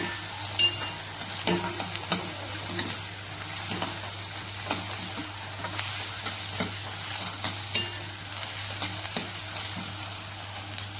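Ginger, garlic and tomato fry in a pan for a dhaba-style whole masoor dish, giving a steady close sizzle. Occasional clinks and scrapes of stirring sound over it, with no voices.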